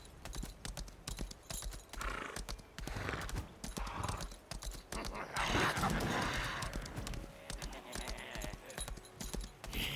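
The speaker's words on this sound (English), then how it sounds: "Get on the horse!" A horse in the online role-playing game Lost Ark gallops with steady, rapid hoofbeats, running close over a busy bed of game effects and ambience.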